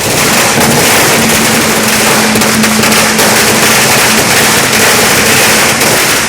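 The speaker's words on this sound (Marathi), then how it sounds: "काही नगरसेवकांनी फटाके फोडून जल्लोष केला" Loud, dense crackling of firecrackers bursting continuously at a street celebration in Badlapur, India, rapid overlapping pops filling the whole stretch with a constant roar.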